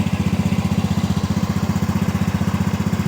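A Honda Beat FI scooter engine idles close by with a steady, rapid putter after starting, an even, unbroken pulsing throughout.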